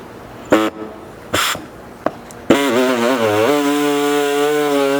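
A cutoff disc slices through a powder-coated 5th Gen 4Runner bumper, a few short bursts and then a sustained loud, high whining grind that bends in pitch as the wheel loads and settles, close up.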